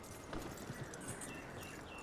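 Horse hooves in Red Dead Redemption 2 clip-clop in a soft, uneven rhythm of light thuds beneath a quiet game ambience.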